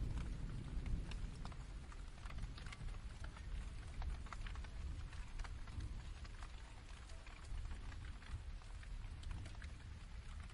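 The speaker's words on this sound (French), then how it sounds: "Écoutez le doux murmure de la pluie qui tombe sur les feuilles," Rain falling on leaves, roofs and ground, a soft continuous hiss of steady pattering drops, faint and even throughout.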